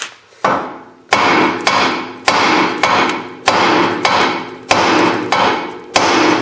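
A hammer strikes a tie rod end on a Honda Civic to pop its tapered stud loose, about ten loud metallic whacks in a steady rhythm, each ringing briefly.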